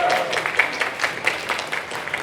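Audience clapping for convention staff, moderate and steady, with scattered claps under a faint voice.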